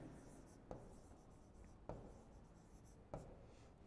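Chalk or marker writing on a board during a maths lecture, a steady scratchy rubbing with three sharp taps, faint and close, with no talk over it.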